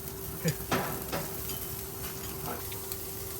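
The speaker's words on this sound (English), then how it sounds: "Now basically we're going to just let her cook for about 3 minutes, 3-4 minutes on this side." Steak searing in a hot pan with butter, a steady soft sizzle broken by a few sharp crackles and spits near the start, with no voices.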